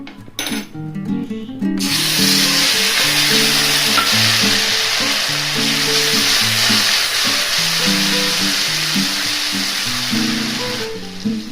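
Ginger and garlic paste sizzles steadily in hot oil for an egg curry, with a loud continuous fry that starts abruptly after a brief opening and runs under faint background music.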